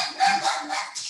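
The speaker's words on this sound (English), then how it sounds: "We have dogs barking because the doorbell rang." Dogs bark in a house after a doorbell rings, a short, slightly distant burst of yappy barks lasting about a second.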